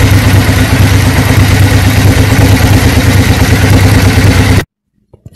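Suzuki Intruder 750 motorcycle engine running steadily and loudly at raised revs during carburetor synchronization, a continuous close rumble that cuts off abruptly near the end.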